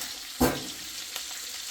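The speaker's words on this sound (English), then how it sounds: "I don't know if it's bacon sizzling or burger sizzling" Bacon and burger patties sizzle in a hot pan, a steady quiet frying hiss with one brief louder crackling burst near the start and a smaller pop later, no voices.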